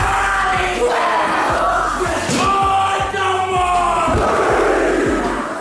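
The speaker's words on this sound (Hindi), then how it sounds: "ये एक न्यूजीलैंड का ट्रेडिशन डांस है जिसे हाका कहते हैं" A New Zealand haka performed by schoolchildren to honour a retiring teacher: a loud crowd of voices shouts and chants in unison, with rhythmic rapid stamping and slapping beats throughout.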